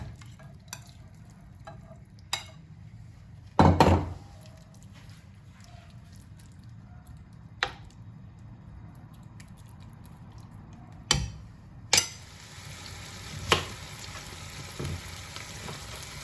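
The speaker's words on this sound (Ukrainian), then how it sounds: "Наливаю олію та десь приблизно півтори-дві ложки. І викладаю куряче філе обсмажуватись." Chicken fillet frying in about one and a half to two spoonfuls of oil in a pan, a steady low sizzle running throughout, broken by a few sharp clatters and scrapes of stirring.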